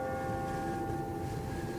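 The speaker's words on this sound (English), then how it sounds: "suddenly disturbed by some deep church bells striking 2" Deep church bells strike two, their tones ringing out and hanging in the air, sustained hum lingering over a low background rumble.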